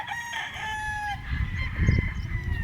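A rooster crows close by at a poultry expo, one drawn-out call in the first second, followed by clucking and shuffling from nearby chickens.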